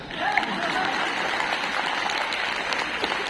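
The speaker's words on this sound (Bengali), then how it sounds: "আমাদের জন্য কোনো হাততালি বাজান না" An indoor audience applauds in a steady burst of clapping, many hands together at an even, close level, with a voice briefly audible at the start.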